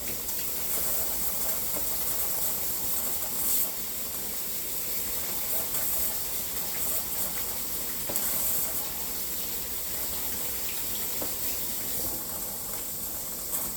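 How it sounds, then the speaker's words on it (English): Stovetop pressure cooker hissing steam in a home kitchen during biscuit making, a continuous bright rushing hiss with faint clinks and knocks, steady and nearby, no talking. "Pressure cooker's screaming at me"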